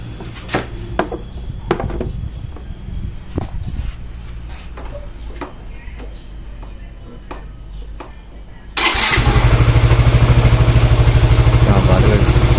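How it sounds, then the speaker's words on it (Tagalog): A Yamaha Mio i 125 scooter engine starts and settles into a loud, steady idle, a dense continuous hum after earlier clicks and handling noises, close by. "patatakboy na po natin itong ating makina"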